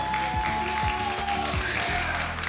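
A karaoke TV studio audience applauds to vote for a singer. The clapping is a brief burst mixed with background music and some voices.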